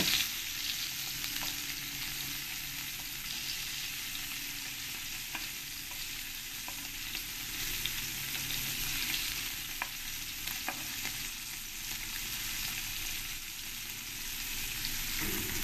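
Puti and mourala fish fry crisp in oil with a continuous crackling sizzle, occasional stirring clicks and scrapes over a long, even stretch without speech.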